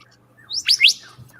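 A songbird mimicking other birds' calls gives a quick run of three or four bright, sweeping chirps close by, with a softer trailing note in a quiet setting.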